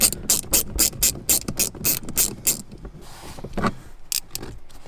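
A small hand ratchet clicks rapidly while removing 8 mm speaker bolts inside a BMW E46 M3, in quick rhythmic bursts with short pauses, close and loud, with no talking.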